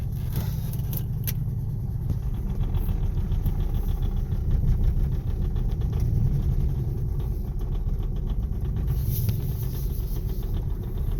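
A Mustang engine awaiting a tune-up idles unevenly with a low, rough rumble and slight sputtering, steady and close for the whole stretch, no voices.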